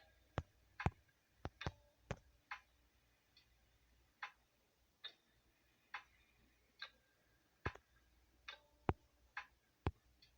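Keys on a computer keyboard are pressed in an irregular series of sharp, distinct clicks, some in quick pairs, spaced across a quiet room.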